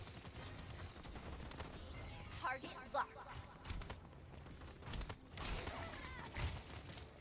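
Gunfire from the online shooter Paladins, a clatter of shots and bursts under game noise with a brief louder flurry of rapid weapon reports midway, fairly close.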